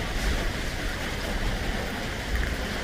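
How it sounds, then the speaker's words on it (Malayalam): Continuous, even hiss of steady rain with no breaks, moderately loud and with no voices. "നമ്മളൊക്കെ ഈ മഴയത്താണ്"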